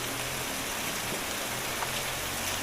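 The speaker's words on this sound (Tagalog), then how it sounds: "Bumuhos na po ang ulan." Heavy rain pouring down outdoors, a dense and steady broadband hiss of drops hitting surfaces. It is loud and unbroken from start to finish, with no talking.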